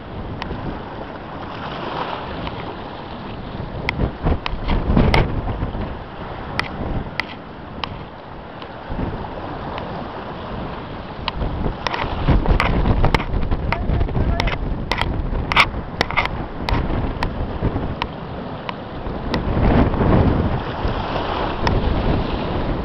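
Sea waves wash and break around a small fishing boat during a lure-fishing trip for sea bass and bluefish at Saros, with steady wind buffeting the microphone and repeated louder surges of water throughout.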